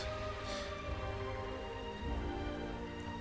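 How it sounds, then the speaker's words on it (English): Steady rain falls in a scene from the video game Arknights, a dense, even hiss of drops hitting surfaces that holds close and constant throughout with no voices. "It's raining?"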